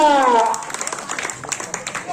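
Clapping from a crowd at a village kusti wrestling bout during a yatra fair, scattered claps following a short burst of a voice, moderately close and fairly loud.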